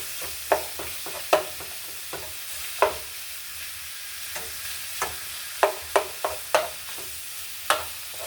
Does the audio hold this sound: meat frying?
yes